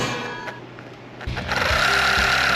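A small electric motor in a toy RC turtle car, running on a 3.7 V battery and noted as stiff, whirs up and keeps spinning with a steady buzzing hum, close and fairly loud, after some brief handling clicks.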